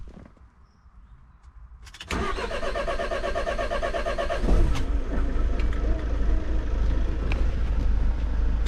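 A petrol car engine being jump-started cranks briefly, then catches and roars to life, settling into a loud, steady idle close by.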